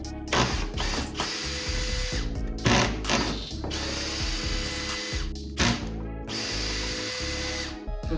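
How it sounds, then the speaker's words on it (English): Work on a Trek Marlin mountain bike's brake caliper: a steady mechanical whir of a power driver or ratchet runs nearly throughout, broken by a few short pauses and clicks, with no talk. "So let's go ahead and get this brake caliper removed."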